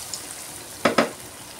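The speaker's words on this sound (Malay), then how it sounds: "Okey, kita akan goreng ayam goreng mamak." Two quick bursts of loud sizzling as chicken pieces drop into hot oil, over a faint quiet background.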